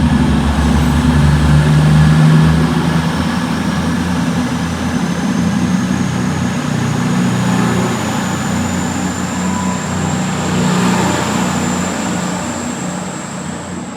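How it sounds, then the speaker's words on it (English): A train departs a station heading toward Leeds, a loud, sustained rumble of engine and wheels with a rising whine, slowly fading toward the end; no voices. "here is the train leaving towards Leeds"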